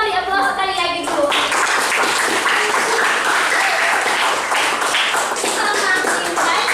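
An audience at a learning session applauds, a dense, loud burst of clapping that fills the space and carries on steadily for several seconds.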